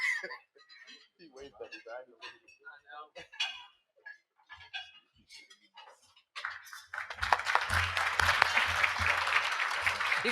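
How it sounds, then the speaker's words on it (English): Scattered talk and murmurs from a college anniversary celebration crowd give way to a sudden burst of sustained audience applause, many hands clapping loudly together until the end. "Derek Carr, give him a round of applause"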